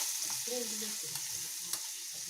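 Garlic dropped into hot oil tempered with cumin and mustard seeds for a bitter gourd pickle, giving a soft, even sizzle with a faint tap or two, close and steady, no voices.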